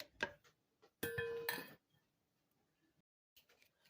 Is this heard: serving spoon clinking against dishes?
yes